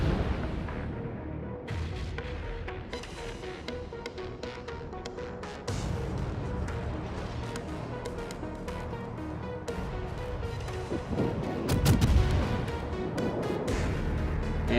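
Battleship gunfire in the naval game World of Warships, heavy booming salvos and low rumbles over a continuous dense background of engine and sea noise, with one louder blast near the end.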